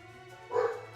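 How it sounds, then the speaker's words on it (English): Dogs bark from another room, a single muffled burst of barking rising briefly over a quiet background about halfway through. "I can finally listen to the dogs barking in the other room"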